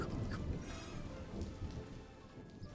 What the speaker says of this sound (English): Ah, it's raining.